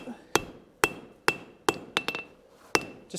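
Hammer blows ring out on metal at an anvil during blacksmith forging, roughly seven sharp metallic strikes at an uneven rhythm, close and clear with ringing decay and no talk.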